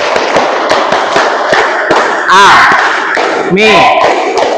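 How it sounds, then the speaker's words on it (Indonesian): Group of school pupils doing the rhythmic tepuk Al-Mizan clapping chant in a classroom, a loud run of sharp, regularly spaced claps with shouted chant voices breaking in twice. "Kita tepuk Al-Mizan dulu, ya."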